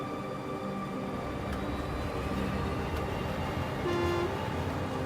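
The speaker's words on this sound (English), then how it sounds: "And they have sounds as well, as you can hear. You can hear the horns honking." Model train horns from a Class 43 and other passenger trains on a layout in the Rolling Line video game, several steady tonal toots overlapping amid rumbling rail noise, with one longer, louder blast near the end.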